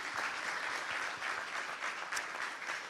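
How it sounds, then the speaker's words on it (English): Steady applause from a conference audience honouring a panel discussion on water and the post-2015 agenda, a dense even patter filling the room for about three seconds with no talk over it. "Please join me to give them a warm round of applause to the panelists."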